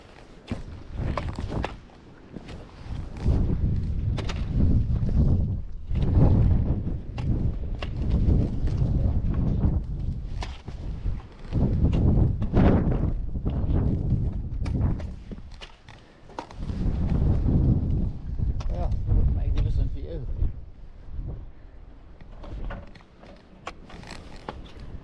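Cold gusty wind on an exposed mountain hiking trail in the Grampians, roaring in long surges across the microphone with brief lulls between, loud and close, with faint crunching steps beneath.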